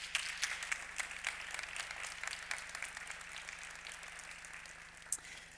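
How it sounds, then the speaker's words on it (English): A conference audience applauds the Secretary General, a quiet round of scattered clapping from a modest crowd that fades gradually over several seconds, heard faintly with a soft hum underneath. "a big round of applause to our Secretary General"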